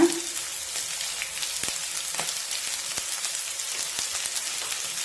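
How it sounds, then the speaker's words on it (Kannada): Curry leaves hitting hot oil with fried onions in a pan, giving a soft, steady crackling sizzle like light rain, fairly close and unaccompanied by speech. "ಈಗ ಕರಿಬೇವಿನ ಸೊಪ್ಪು ಹಾಕೋಣ."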